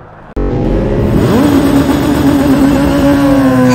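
A Kawasaki Z900 motorcycle engine bursts in suddenly, then rises into a loud, close, sustained drone as the bike pulls away and holds a steady pitch while riding.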